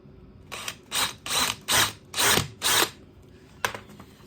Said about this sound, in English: I'm only using a small pilot drill so that the screw pulls in into the ply behind.